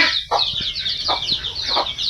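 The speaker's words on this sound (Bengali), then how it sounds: "এই যে আমার মুরগির বাচ্চাগুলো, ছোট বাচ্চাগুলো," Chicks cheep in a quick, high-pitched chorus, close by, with a few lower clucks from a hen mixed in, at a poultry farm on a cold winter morning.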